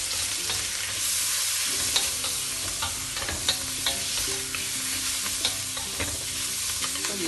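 Dry turnip tossed with garlic and stir-fried in a hot pan: a dense, loud continuous sizzle with a low hum beneath and scattered scrapes and knocks of the spatula, close up and without talk.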